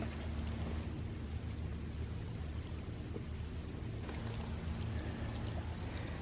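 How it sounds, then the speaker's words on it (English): A mountain spring beside a hiking trail, with water pouring and rushing in a steady, full, close wash of sound that holds unbroken throughout with no voices. "A mountain spring."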